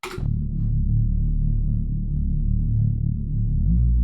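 A low, sustained Serum synth atmosphere pad hums steadily with a soft pulsing texture, dark and warm, holding without pause after a brief bright attack.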